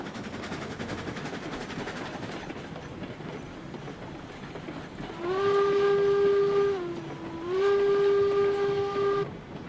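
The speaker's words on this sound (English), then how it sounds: "Keep the train rolling." A steam locomotive in the video game RailRoads Online chugs along steadily, then sounds two long whistle blasts, each held for a couple of seconds with a slight pitch dip.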